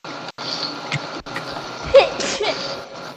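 A single sharp sneeze cuts through steady background noise that runs throughout.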